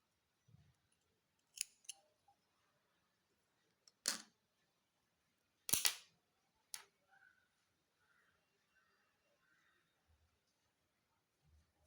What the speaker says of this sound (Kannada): ನೋಡಿ ಹೀಗೆ ದಾರನ ಕಟ್ ಮಾಡ್ಕೊಳ್ಳೋಣ